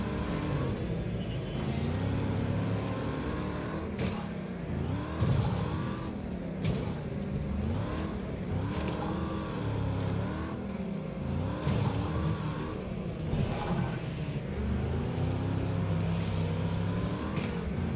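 An old American muscle car racing in Wreckfest, its engine droning loud and steady as it rises and falls through gear changes and revs for the whole stretch, with no voices.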